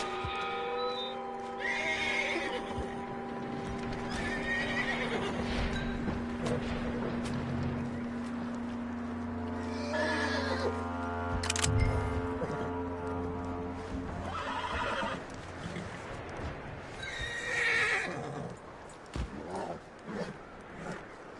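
Horse neighing and whinnying with hooves clip-clopping in Red Dead Redemption 2, layered over a steady game music and ambience bed, with a couple of louder neighs rising above it.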